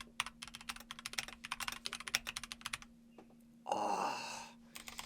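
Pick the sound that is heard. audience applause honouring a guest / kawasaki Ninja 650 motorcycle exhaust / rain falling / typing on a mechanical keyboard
typing on a mechanical keyboard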